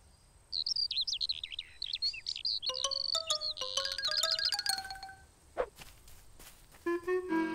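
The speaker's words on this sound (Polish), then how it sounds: "Chyba słyszałam skowronka." A cartoon skylark sings on a bird-watching outing, a bright, quick string of warbling chirps and trills heard alone with no talk, followed by a few scattered light taps.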